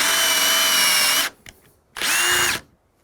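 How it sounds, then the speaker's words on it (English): A power drill bores through a wooden door toward the lock, two loud sustained whining bursts separated by a brief pause with faint knocks, no talking. "now you can only drill so far at a time"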